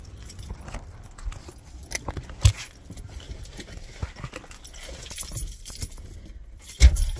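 Keys jangling in short, irregular bursts with a couple of sharper metallic clinks, close by, set against faint outdoor background noise with no talking.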